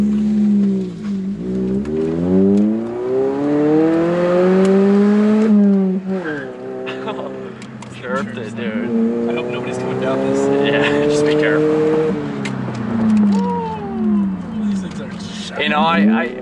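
A small 1.8-litre car engine revs loudly and repeatedly, pitch climbing and falling through gear changes, with people talking over it.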